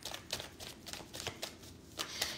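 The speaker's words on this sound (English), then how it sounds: "Let me do a better shuffle." A deck of cards is shuffled close up in a quiet room, a soft quick series of riffling flutters and taps with no voices.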